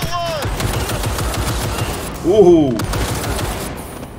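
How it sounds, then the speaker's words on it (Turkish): Rapid gunfire in Cyberpunk 2077, a steady stream of shots through the whole stretch, with someone talking briefly over it. "Kim sıkıyor lan bana?"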